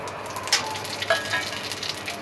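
Radhuni, nigella seeds, dried red chilli pieces, bay leaves and green chillies hit hot oil for a tempering, giving a steady soft sizzle with small crackles and pops, close but fairly quiet.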